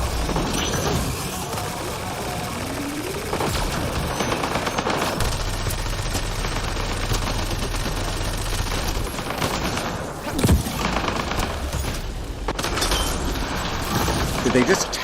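Turret firing rockets and sustained automatic gunfire in Mass Effect Andromeda, a dense continuous barrage with occasional heavier booms and a voice talking over it.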